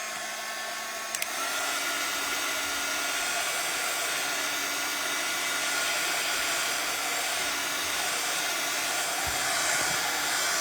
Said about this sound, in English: I'm gonna plug in my dryer real quick and dry some of this background